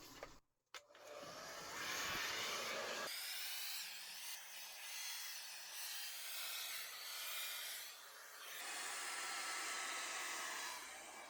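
Air blows onto wet acrylic pour paint in a cell-technique painting, a loud, close, continuous hiss like a hair dryer that starts with a sputter and surges and dips in strength.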